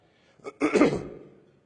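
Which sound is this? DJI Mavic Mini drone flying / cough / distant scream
cough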